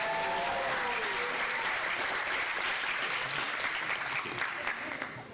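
Sustained applause from a graduation ceremony audience, dense steady clapping throughout that thins slightly toward the end.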